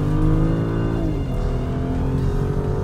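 A BMW 435i convertible accelerates hard as the gas pedal is pressed, its engine droning loudly and steadily, heard from inside the car, with the pitch shifting once about a second in as the revs change.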